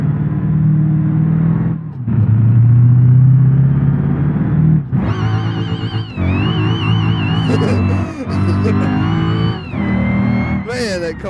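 A race car in BeamNG.drive street racing at Deal's Gap revs hard and loud, its engine pitch climbing and falling through repeated throttle bursts and gear changes, with no pause in the roar.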